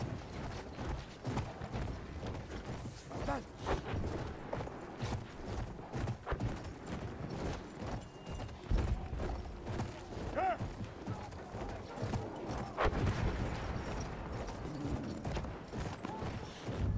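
Hooves clip-clop steadily from a galloping horse in the video game Battlefield 1, set against dense battle noise, clanks and occasional whinnies, with a continuous busy mix throughout and no speech.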